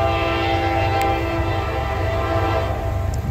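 An eastbound Norfolk Southern intermodal freight train on the Mon line in Homestead, Pennsylvania, passes close with a steady, loud rumble, and a sustained horn chord holds throughout.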